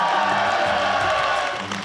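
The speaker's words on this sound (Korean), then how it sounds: "박수!" A crowd of party members at a political rally in Korea cheers and claps in one loud, dense, continuous roar, with shouted voices mixed in and fading slightly at the end.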